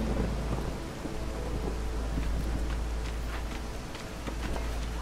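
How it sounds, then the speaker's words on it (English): A video-game thunderstorm during storm season: steady, heavy rain hiss with low, rolling thunder rumbling beneath it throughout. "Now for our first storm season."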